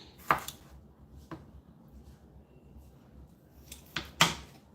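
Tomatoes being chopped on a board in a home kitchen, a few sharp, close knife strikes spaced irregularly, with a pair of quick chops near the end, over quiet background and no talking.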